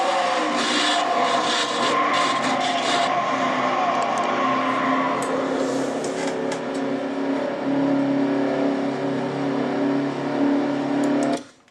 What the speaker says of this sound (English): You can hear David Burton's engine slowly dying.